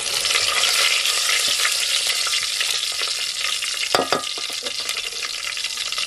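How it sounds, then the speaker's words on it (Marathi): Garlic sizzles hard in oil in a pan over a wood-fired stove, a dense, steady frying hiss that flares briefly as curry leaves are dropped in midway. "लसूण लाल झाले, आता आपण कढीपत्ता घालूया."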